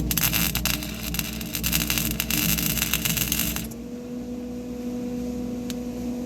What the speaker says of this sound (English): we're just going to put a quickie tack weld right here